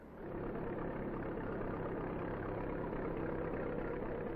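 1950s tractor engine running steadily while a one-way plough works a field, a continuous low, rumbling mechanical drone at even strength throughout, moderately near and without pauses.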